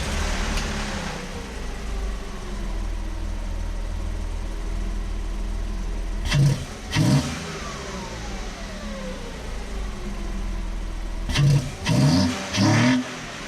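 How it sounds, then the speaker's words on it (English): A Porsche 986 Boxster fitted with a custom Maxpeedingrod cold air intake idles steadily close by, then gives two sharp pairs of throttle blips as the engine revs up and settles back. "So now we're going to start the car."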